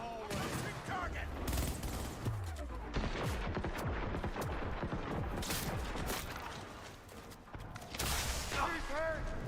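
Sustained bursts of video game gunfire from Cyberpunk, rapid shots and booms crowding a firefight under shouted voices throughout.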